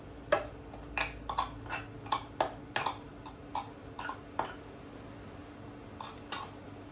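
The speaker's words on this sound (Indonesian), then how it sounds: "Lalu kita aduk." A spoon stirs a mixture of Betadine drops and saliva water, giving a dozen or so sharp, bright clinks against the glass in an uneven rhythm, close and fairly quiet over a soft background hiss.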